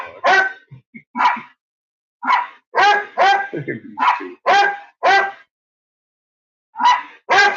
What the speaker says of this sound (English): He's just sitting there wagging his little tail barking.